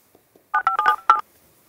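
A telephone number dialed on a keypad: two faint clicks, then a quick run of about five beeping tones and one last tone, close and clear against silence.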